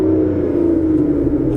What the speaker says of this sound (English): we are greeted by the wonderful 6-litre V12, which sounds absolutely incredible